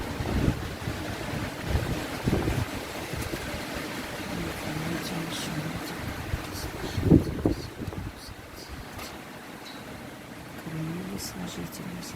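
Outdoor wind roars and gusts into the microphone, with surging, uneven bursts of rumbling noise and a rough, stormy texture, swelling loudest around the middle before easing.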